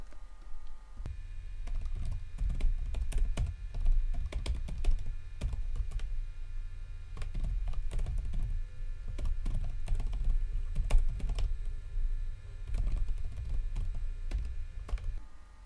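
Steady, fast typing on a computer keyboard while writing a C program, continuous close clatter of keys with a few louder strokes, lasting throughout with a low background rumble and no voices.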